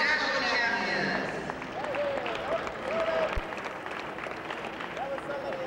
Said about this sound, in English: Big round of applause, our heavyweight national champions.